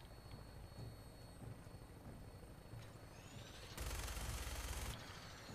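Gunfire in Fallout 4 arrives as a faint, distant rattle under low ambient hum, then a louder dense burst of automatic shots for about a second near the end before the noise drops back.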